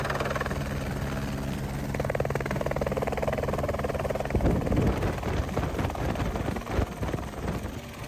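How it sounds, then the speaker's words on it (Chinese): A helicopter runs near a glacier at Mount Cook, New Zealand, its rotor thudding loudly with gusty wind noise, then rising in intensity partway through as it blasts ice and snow outward. "离开前记得也要体验一下被直升机喷冰"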